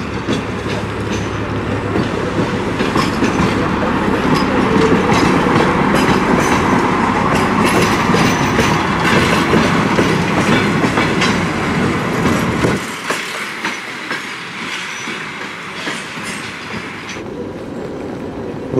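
Passenger train No. 360 on the Sochi–Kaliningrad route stands at a station while its locomotive is changed. A loud, close, rumbling mechanical din with clanking drops suddenly to a quieter hum about two-thirds through.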